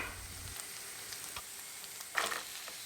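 Meat for Turkish buğu kebabı browns in a dry pan, a soft continuous sizzle heard close, with a brief louder crackle near the end.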